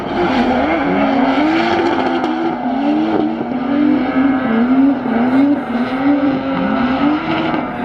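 New cars, including an Audi, drifting on a winter track event, with a loud continuous engine whine rising and falling in pitch as the car slides through turns, steady and close for the whole stretch.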